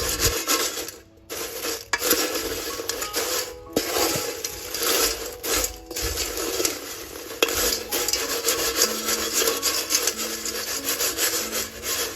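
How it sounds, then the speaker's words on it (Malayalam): Crushed papadam stir-fry is stirred and mixed in a pan, with continuous scraping and rustling strokes of a spatula and a faint sizzle underneath, close and steady with no voices. "എന്നിട്ട് നന്നായിട്ട് എല്ലാം കൂടെ ഒന്ന് മിക്സ് ആകുന്ന രീതിയിലൊന്ന് ആക്കി കൊടുത്താൽ മതി"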